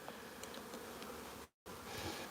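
Honeybees buzzing during a nuc transfer into hives in an apiary: a dense, steady swarm hum fills the whole stretch, broken by one brief silent gap near the end.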